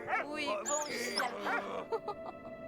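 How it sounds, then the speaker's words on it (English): Dog in the World War I video game Valiant Hearts yipping and whimpering in short bursts, heard close and clear with a voice talking alongside. "Doggy!"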